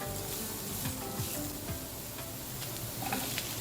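Onions and other vegetables sauté together in a hot pan for a vegetarian fried noodle dish, giving a dense, continuous close sizzle with faint stirring scrapes underneath.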